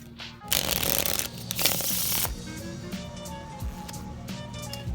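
An Alphabet deck of playing cards by ManoSanta is faro shuffled up close, with a crisp riffling burst of interlacing cards followed by a softer second riffle and light handling clicks, quiet and intimate.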